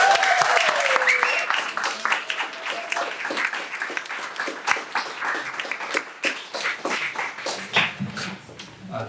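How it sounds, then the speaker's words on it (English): Audience applause at a literary reading, a dense patter of many hands clapping that starts strong and gradually thins out, with a voice briefly heard at the start. "Please give him a round of applause."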